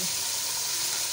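Steady, dense sizzle of onions and tomatoes frying in a pan, close and continuous without talk.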